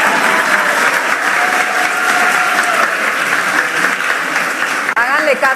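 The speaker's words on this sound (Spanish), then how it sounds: "¡Un aplauso!" An audience at a gathering with children applauds loudly and continuously, dense clapping filling several seconds while a few voices sound over it near the end.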